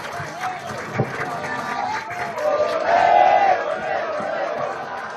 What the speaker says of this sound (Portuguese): O discurso de Lula é aplaudido